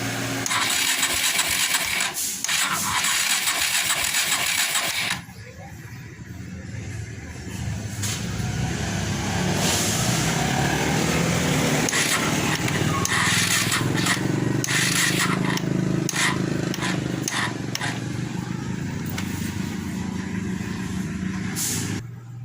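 A Suzuki Shogun 125 R motorcycle engine cranks and starts, then keeps running in a steady, loud mechanical drone with brief clanks and scrapes over it, sounding close by.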